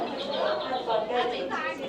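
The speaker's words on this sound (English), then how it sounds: "birds or bats up there. Birds, I think." High, bright chirping from birds up inside Panlong Cave in Yunfu, China, continuous over about two seconds and echoing slightly under the murmur of visitors nearby.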